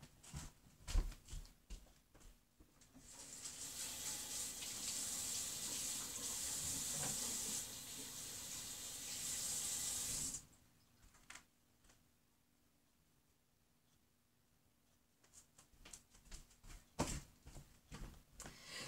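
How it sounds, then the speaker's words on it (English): Tap water runs steadily for several seconds as hands are rinsed under a household faucet, a close hissing stream that stops abruptly, followed by scattered small clatters and handling noises. "I'm going to have to rinse my hands off right quick"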